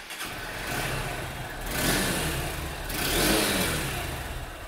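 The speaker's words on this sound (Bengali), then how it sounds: "চলুন এবার বাইকটার এক্সস্টের সাউন্ড আমি আপনাদেরকে শুনিয়ে দিচ্ছি।" A Honda Hornet 2.0 motorcycle engine catches and settles into a rumbling idle, then its exhaust swells through two throttle revs before dropping back, loud and close with no talking.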